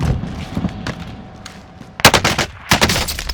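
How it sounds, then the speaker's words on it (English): Automatic gunfire in the Call of Duty Warzone game on Rebirth Island, with scattered shots and then sharp loud bursts at close range over quieter background battle noise. "I am under fire."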